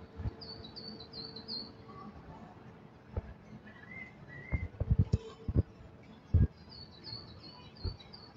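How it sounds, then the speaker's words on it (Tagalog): Birds chirping at Ocean Park, faint high tweets and short whistled calls drifting through the clip over quiet outdoor ambience, with occasional louder knocks and footsteps nearby. "Mga ibon."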